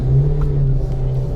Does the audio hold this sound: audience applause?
no